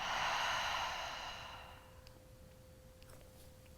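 A long, audible exhale during a gentle yoga breathing exercise, a soft, close rush of breath that fades away into quiet room tone.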